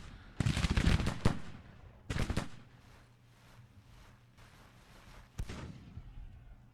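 Troops fire in the Civil War strategy game Grand Tactician: The Civil War: loud, crackling volleys of gunfire burst out in several separate salvos, close and sharp, with quieter scattered shots between them.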